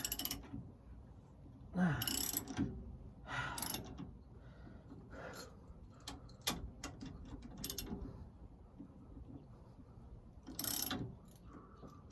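A ratchet working bolts loose beneath a 2016 Thor ACE 29.3 RV, heard as intermittent bursts of metallic clicking and clattering spread over several seconds, moderately close with quieter gaps and no clear talk.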